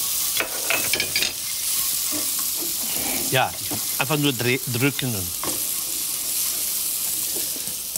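Onions sizzle steadily in a frying pan on a gas stove in a home kitchen, a constant bright hiss with faint stirring, while people talk briefly over it.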